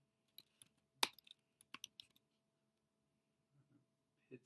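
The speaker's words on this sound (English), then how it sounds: "Typing it in," Typing on a computer keyboard, a scatter of soft close key clicks in quick irregular bursts with a couple of pauses, quiet and isolated.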